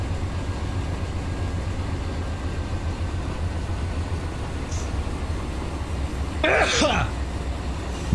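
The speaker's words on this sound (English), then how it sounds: "Nah, sneeze." A single short sneeze bursts out near the end, loud and close, over a steady low rumbling background.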